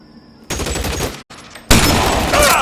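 Bursts of gunfire in the L.A. Noire video game, loud and dense: a short volley, a brief gap, then a heavier sustained barrage of overlapping shots close by.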